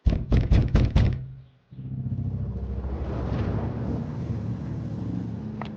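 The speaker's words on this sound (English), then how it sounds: "eventually having to bang on the door." Heavy banging on a locked front door comes as a quick run of five loud, close thuds. A low rumbling ambience follows after a short gap.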